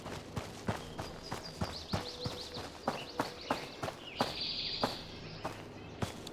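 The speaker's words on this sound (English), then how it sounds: "Thought I heard footsteps." Footsteps in the survival shooter Road to Vostok, a steady series of sharp, evenly spaced steps on hard ground, fairly close, with bird chirps in the background and no talking.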